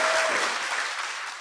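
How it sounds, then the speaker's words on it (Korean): At the close of a live Korean talk show recording, the audience gives a short, full burst of applause that tapers slightly, with no speech over it. "박수 부탁드립니다."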